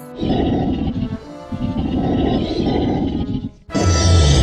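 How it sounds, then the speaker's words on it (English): Low, menacing growls of wolves as a sound effect in a Beauty and the Beast JR stage performance: continuous deep, rumbling snarls, loud and close, breaking briefly before a harsher burst at the end. "Belle heard the low and menacing growls of wolves."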